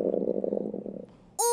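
Cartoon frogs in a children's show give a short burst of low, rapid croaking that fades out, followed by a sudden bright tonal sound at the end.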